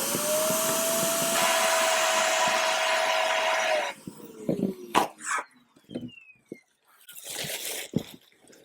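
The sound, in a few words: vacuum sealer sucking air out of quilt shipping bag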